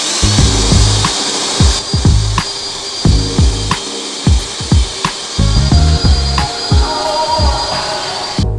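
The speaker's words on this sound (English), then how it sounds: "We just used the wire wheel." Power wire wheel grinding against muscle car trim in repeated loud bursts, roughly a dozen passes with short pauses between them, and no talking.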